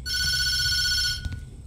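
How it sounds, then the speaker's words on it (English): A telephone rings inside the horror video game Tattletail, a loud electronic ringtone held steadily for about a second before cutting off, followed by faint low rumbling. "Why would you tell me not to answer the phone? They're tempting me too much to answer that phone."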